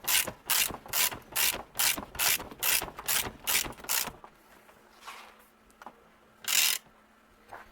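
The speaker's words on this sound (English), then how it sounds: "I can get my socket on there and reverse it." Socket ratchet turning a bolt on a 1951 Ford truck seat: about ten quick, loud pawl clicking bursts in a steady rhythm, close by, then a pause with a few fainter clicks and one last burst.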